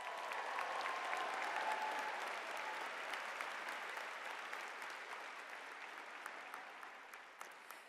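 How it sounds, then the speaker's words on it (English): A large audience applauds graduates at the Watts College of Public Service and Communities spring 2025 convocation, a broad sustained ovation in a big hall that slowly thins out, with a few sharp claps near the end. "let's have a round of applause for our graduates"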